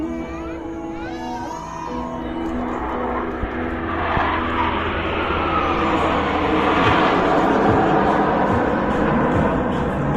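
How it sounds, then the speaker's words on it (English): Military jets, MiG-29 type, flying in the fulcrum formation at an air show in Kashmir, a broad roaring engine rush that swells and holds, heard from a distance over crowd noise. "the fulcrum formation, named after the famous MiG-29 aircraft"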